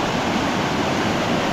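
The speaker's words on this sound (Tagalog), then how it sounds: "Ito yung agos." Strong river current rushing steadily, a constant broad wash of flowing water close by with no voices over it.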